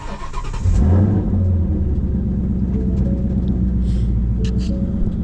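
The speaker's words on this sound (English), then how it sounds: "now we're going to start it and let it idle for another 2 to 3 minutes" A Ford Coyote V8 with a newly installed ported throttle body cranks and fires, revving briefly before settling into a loud, steady, rumbling idle close by, with no talk.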